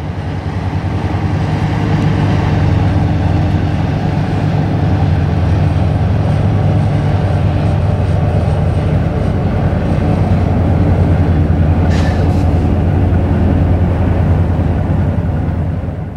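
The Illinois Central City of Miami passenger train heading northbound at Centralia on its last run to Chicago, a loud, steady rumble of engines and rolling cars passing close by, with a brief high squeal partway through.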